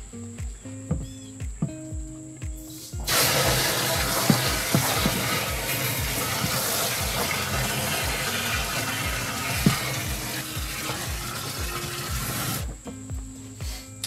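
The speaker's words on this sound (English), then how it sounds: "you may want to turn the water on." Tap water runs steadily into a DIY weed killer sprayer tank for a lawn, a loud continuous rushing hiss lasting about ten seconds that starts and stops abruptly over faint background music.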